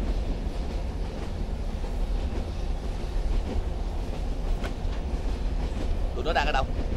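A train rolling along rails in a 2001 film, a continuous loud rumble with faint clickety-clack and a brief squeal near the end, with no clear talk over it.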